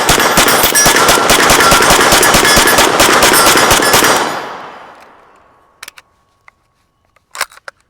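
A PTR 9RS pistol with a Vent suppressor firing 124 grain NATO ammo rattles off a loud, rapid continuous burst for about four seconds, then fades out, followed by a few scattered clicks and clatters.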